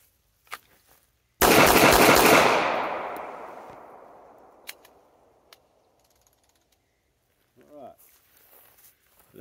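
A Sig Sauer P238 .380 pistol fires through a magazine, with a burst of sharp, loud reports that ring out and decay over a few seconds, followed by faint mechanical clicks and handling noises.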